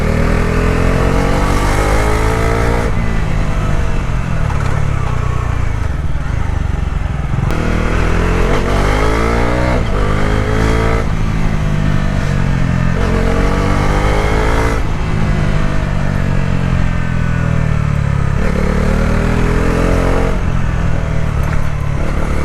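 A 2025 Bajaj Dominar 400 motorcycle exhaust while riding on mountain roads, a loud continuous engine drone that rises and falls through repeated throttle openings and gear changes, close and steady throughout.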